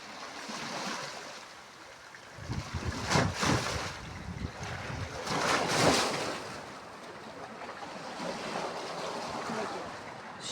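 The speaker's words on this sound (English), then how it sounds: "Big old waves. Gotta love the ocean." Big ocean waves surging and breaking, broad swelling roars that rise and fall in a couple of strong peaks over a constant wash, with some wind buffeting the microphone.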